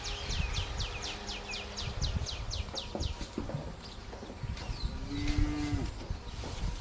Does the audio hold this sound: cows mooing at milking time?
yes